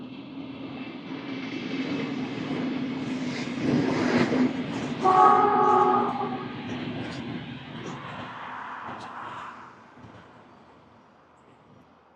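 A train rumbles past steadily, its low roar swelling and fading, with a horn-like tone sounding briefly in the middle.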